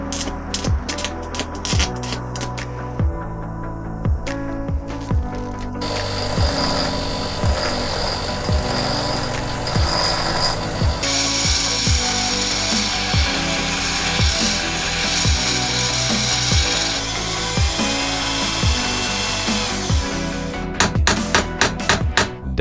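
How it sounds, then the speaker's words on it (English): Drill press spindle ratchet teeth ground off with a grinder: a steady, harsh metallic grinding hiss runs through the middle of the clip beneath rhythmic, beat-driven background music. "I want to grind off these ratchet teeth"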